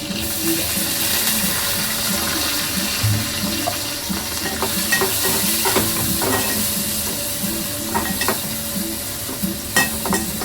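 Chopped onion sizzles and fries in hot oil in a home kitchen, a steady crackling hiss broken by clinks and scrapes of a spoon stirring the pan.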